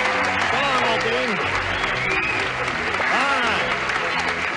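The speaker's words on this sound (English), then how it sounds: "Let's have a nice round of applause for Colonel Jerry Birch, ladies and gentleme" Game show studio audience applauding, a dense sustained burst of clapping and crowd noise, loud and continuous, with voices and cheering mixed in throughout.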